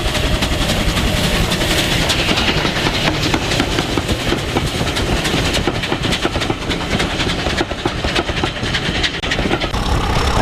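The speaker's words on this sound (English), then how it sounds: "The second Santa train being hauled by 34092, the City of Wells." Steam locomotive 34092 City of Wells hauling a Santa special train, a loud, steady rumble of wheels and clattering carriages with rhythmic clickety-clack and steam sounds throughout, close by and without talk.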